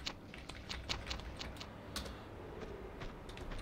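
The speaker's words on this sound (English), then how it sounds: "I'm playing on keyboard, by the way," Computer keyboard keys clack quietly during play of Tomb Raider 2, with irregular, close-up taps arriving in quick clusters and short gaps, faint and alone.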